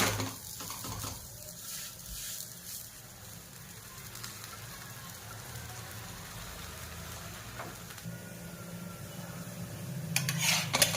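Sesame butter paratha roasting on a hot pan, with a soft continuous sizzle and occasional scrape of a utensil against the metal, fairly quiet and close, no talking.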